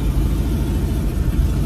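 A Porsche 356 engine idles as the car is driven onto a trailer, a close, continuous low mechanical burble with a steady pulsing rhythm.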